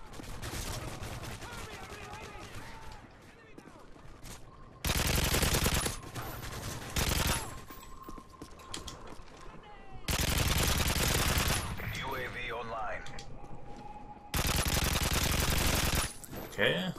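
A PKP Pecheneg machine gun fires in long, loud sustained bursts in the video game MW3, three main strings of rapid fire separated by pauses, with someone talking in between.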